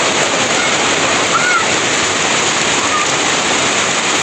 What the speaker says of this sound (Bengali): বৃষ্টি হচ্ছে আমাদের অনেক দিন পর।